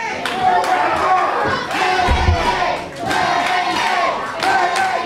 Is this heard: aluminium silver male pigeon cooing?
no